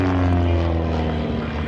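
Propeller aerobatic biplane, a Pitts, flying inverted during an air show, giving a steady loud droning engine hum heard up close over its brief span.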